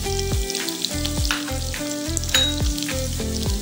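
Green chilli, sliced onion and capsicum fry in a pan, a steady close sizzle with repeated rhythmic spatula tosses and scrapes, with a low hum running beneath and no voices.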